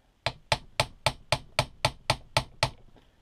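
Ten evenly spaced sharp metallic taps as a hammer strikes a center punch to mark an alloy RC crawler chassis, close and crisp with short decays, no talking.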